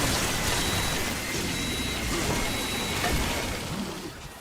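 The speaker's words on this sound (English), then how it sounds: "when it's low on ammo, it starts making a beeping noise" A low ammo warning beep in the Call of Duty video game: faint, repeated short high-pitched beeps at regular intervals over a dense wash of gameplay noise.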